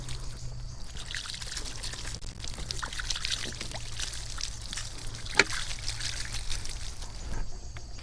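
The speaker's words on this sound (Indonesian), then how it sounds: "Karena ini tanahnya kering, maka kita siram terlebih dahulu." Water pours and trickles steadily onto dry soil of a chili seedbed, faint and continuous over a low background hum.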